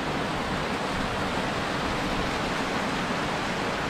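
Snowmelt water flows in a stream at Sonmarg, Kashmir, a dense, constant rushing roar with no pauses, close and loud, with no voices.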